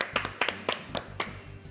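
Audience applause on a TV show comes through as a handful of distinct, sparse claps in an uneven rhythm, fairly close and moderately loud, with no talking.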